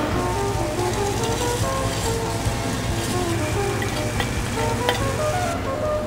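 Fideuá pasta frying in a pan with garlic, chili and seafood, a continuous close sizzle with patter like rain, dense and fairly loud throughout.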